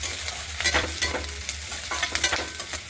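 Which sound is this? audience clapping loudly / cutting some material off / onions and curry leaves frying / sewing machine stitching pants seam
onions and curry leaves frying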